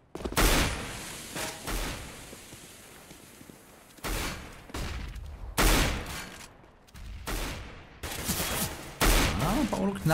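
Bursts of gunfire from Counter-Strike: Global Offensive in a tournament grand final, several loud volleys and single shots separated by brief gaps, with commentary voices mixed in beneath.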